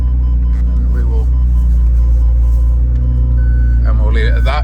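A McLaren 750S Spider's parking sensors beep while it reverses toward a garage, a steady series of tones over a deep idling engine rumble, with a voice speaking briefly near the end.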